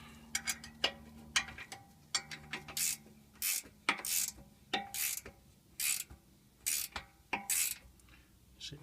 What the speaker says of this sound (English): Stick a spanner on this side.